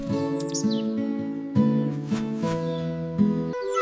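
Sparrow chirping as a story sound effect, a bright run of repeated tweets and trills in a steady, loud, close rhythm, alone without talk, set in a forest tree nest.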